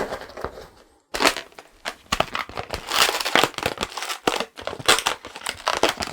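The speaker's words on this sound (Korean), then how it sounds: "가위로 매듭 부분을 다듬어 주시면 됩니다" A rubber balloon knot being trimmed with scissors gives close, dense crinkling and rubbing with sharp snips and crackles in irregular bursts, pausing briefly near the start.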